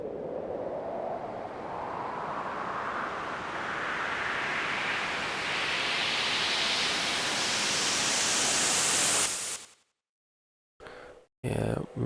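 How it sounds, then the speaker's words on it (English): A white noise riser sweeping upward for a music buildup, a loud hiss that climbs steadily in pitch for about nine seconds, then cuts off abruptly into silence with a couple of short noise bursts. "now we have a pretty good sounding sweep white noise riser."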